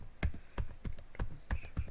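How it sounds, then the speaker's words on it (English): Keys on a computer keyboard pressed one after another at a slow, steady pace, about a dozen close, crisp clicks with no talking. "I'm typing slowly."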